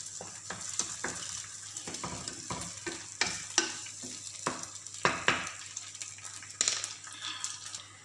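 Two eggs fry in a pan, a constant sizzle broken by sharp spatula scrapes and clicks against the pan at an uneven rhythm, close and fairly loud, with no talking.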